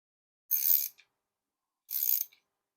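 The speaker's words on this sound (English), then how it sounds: "It's the worst ratchet in the world." A ratchet drives a screw into wood during assembly of a pedestal table: two separate bursts of rapid clicking, each about half a second long, with a quiet gap between them.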